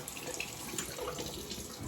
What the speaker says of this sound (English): Rinse the razor, like I said, in nice cold water.